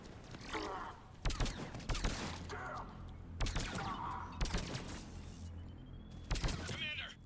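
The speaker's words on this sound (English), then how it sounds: "Commander, we're getting a lot of mortar fire." Bursts of gunfire and mortar blasts rumble through a video game battle, arriving in repeated heavy volleys with quieter gaps between them.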